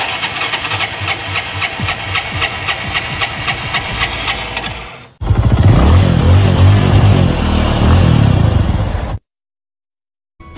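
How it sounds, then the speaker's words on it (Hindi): A motorcycle engine with its choke raised, stalled at the roadside, fires up and runs with a rapid, pulsing idle, then catches with a louder, fuller roar before cutting off abruptly into silence; the sound is close and loud. "अब हम इस चौक को ऊपर करके देखेंगे कि बाइक चालू होती है या नहीं होती।"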